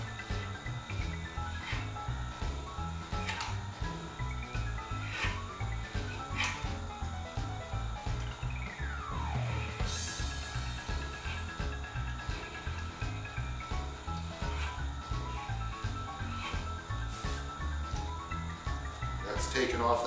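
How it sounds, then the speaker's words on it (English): A jointer knife's back face honed on a Tormek sharpening machine, giving a steady close whirring hum with a faint scraping hiss of steel on the wheel, continuous and moderately loud. "So I'm going to start by honing the back side."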